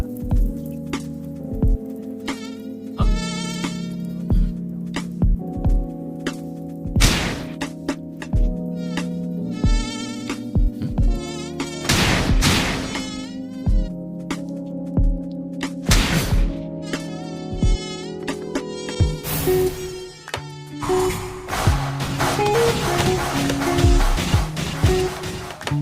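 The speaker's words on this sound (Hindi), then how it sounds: "हमें ताज़ा तरीन खबर मिली है कि मच्छरों का एक बड़ा झुंड सिटी सी में देखा गया है" Cartoon mosquito swarm buzzing in an animated action series, with repeated high whining buzz bursts layered over a dramatic musical score, punctuated by sharp crashes and hits.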